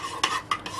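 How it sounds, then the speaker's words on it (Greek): Food seasoned with pepper, thyme and anise is stirred in a pan with a utensil, giving two or three quick, close scraping strokes with a metallic edge. No voice is heard. "Ανακατεύουμε καλά."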